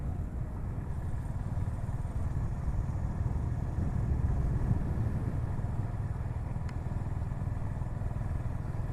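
A Honda H'ness CB350 motorcycle cruising on the Tirupati–Bangalore highway near the Mulbagal toll gate: a steady, low engine drone with constant wind rumble throughout, even and unbroken, with no talking.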